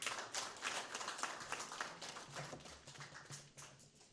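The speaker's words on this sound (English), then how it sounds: "the theater commander deserves another round of applause" Applause breaks out for the theater commander at a military press briefing in Maiduguri, a dense patter of many hands clapping at a distance, fairly faint and steady.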